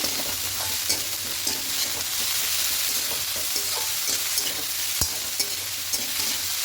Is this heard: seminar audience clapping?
no